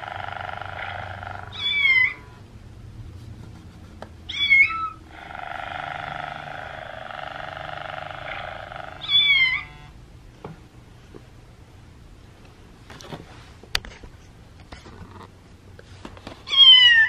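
A cat meows repeatedly, with several drawn-out cries separated by shorter chirpy calls, over a steady low hum indoors, with some light clicks and knocks near the end.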